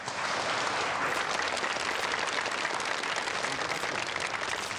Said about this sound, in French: je vous prie d'applaudir chaleureusement pour céder la bienvenue à notre invité, Monsieur Laurent Duval.